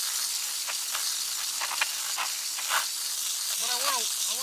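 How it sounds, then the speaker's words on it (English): Pressure sprayer hissing close up as it washes soil off the roots of a wild-collected bonsai tree, a steady broad spray with small pulses, and a voice briefly at the end. "take a pressure sprayer and not too roughly"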